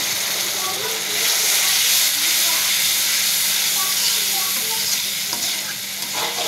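Water added to hot spice paste for a Bengali hilsa curry sizzles and hisses in the pan, a steady frying hiss with faint stirring scrapes, fairly close and continuous throughout.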